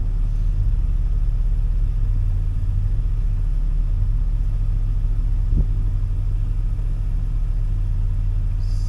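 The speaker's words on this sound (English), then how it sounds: "I've made some big mounds where the tracks go and spin a little bit." A tracked vehicle churns through deep snow, its engine a steady, loud low rumble as the tracks spin and climb, with no voices over it.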